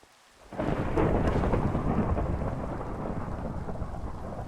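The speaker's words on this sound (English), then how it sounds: "It has not stopped thundering." A loud crack of thunder breaks out and rolls on as a long rumble through steady heavy rain during a rainstorm, close and with no talking.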